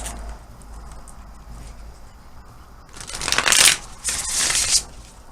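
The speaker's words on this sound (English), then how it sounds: "I'm shuffling. I like to shuffle." Tarot cards being shuffled, a stretch of faint room noise followed by two loud, close bursts of riffling card flutter about a second apart, with no talking.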